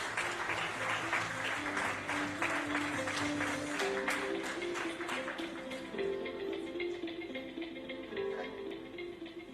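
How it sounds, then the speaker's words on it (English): Audience applause at a business conference fills the hall, a steady wash of clapping that continues throughout, with some tonal background sound and possible faint voices underneath. "With a big round of applause, ladies and gentlemen"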